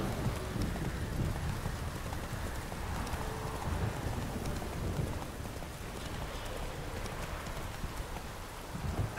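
Roach the horse gallops in The Witcher 3, hooves clip-clopping in a steady rapid rhythm over a constant wash of rain with faint rumbling thunder, close and continuous throughout.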